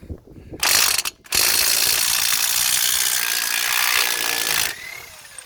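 A ratchet wrench spins loose the nut on a Nissan Note rear wheel bearing, giving a loud, close, continuous buzzing ratchet whir that briefly stops and restarts before ending.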